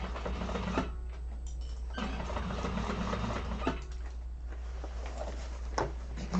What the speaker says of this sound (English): make sure you're only sewing through what you need to be sewing through